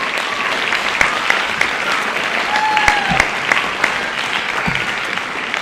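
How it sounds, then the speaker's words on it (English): Audience applause at the Wantagh High School winter band concert, honoring the high school Tri-M students: dense, steady clapping from a large crowd filling the hall, sustained without a break. "So a huge round of applause for our high school Tri-M students"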